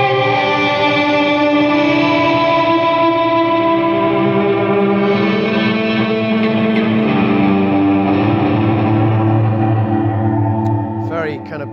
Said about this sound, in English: And then a lot of delay and a lot of reverb to create that kind of cloud. Washy cloud effect.